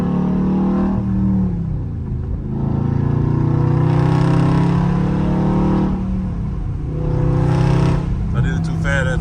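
A Dodge Scat Pack with a manual gearbox roars loudly, its engine climbing hard through the revs, dropping briefly at each gear change and pulling again, with several shifts in quick succession.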